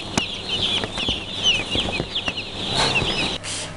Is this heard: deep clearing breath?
no